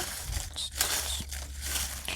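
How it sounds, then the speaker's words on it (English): A stack of paper cards being shuffled by hand: a continuous close, crisp riffling and crinkling for a couple of seconds, with no voices. "Let me shuffle."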